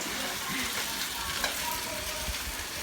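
An egg fries in a pan for pad thai, giving a steady, soft sizzle and crackle with a few faint clinks, continuous and fairly close.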